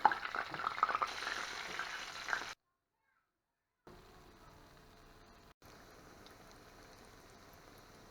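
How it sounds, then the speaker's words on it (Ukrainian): Potato-water dough fritters frying in hot oil in a well-heated pan give a crackling sizzle, louder at first, then a brief silence before a fainter, steady frying hiss resumes over medium heat. "жаримо на добре розігрітій сковорідці, викладаємо наші пампухи"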